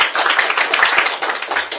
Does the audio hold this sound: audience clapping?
yes